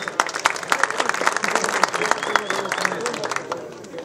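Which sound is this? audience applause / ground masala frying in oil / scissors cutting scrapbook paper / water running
audience applause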